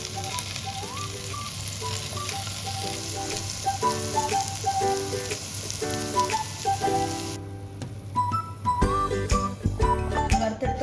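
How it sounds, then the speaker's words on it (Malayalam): Boiled potato cubes fry in ghee with a steady, close, crackling sizzle that runs throughout, while a tune plays faintly underneath. "ഇതൊന്ന് ഒരു ഗോൾഡൻ ബ്രൗൺ കളറിൽ നമുക്കൊന്ന് വറുത്തെടുക്കാം"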